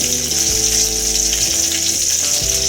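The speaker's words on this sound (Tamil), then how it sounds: "சின்ன வெங்காயத்தை முழுசாக போட்டு வதக்கிக்கோங்க. பூண்டையும் போட்டு நல்லா ஒரு 2 நிமிஷம் வதக்கி எடுத்துக்கோங்க." Whole shallots and garlic sauté in a pan with a steady, bright sizzle under a constant background hum, close and continuous, with no talking.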